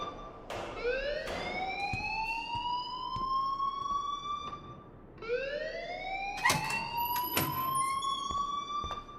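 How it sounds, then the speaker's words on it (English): A school alarm wails in the video game Life is Strange, two long rising siren sweeps at moderate volume with clicks and knocks mixed in. "please turn off that alarm since that's your job"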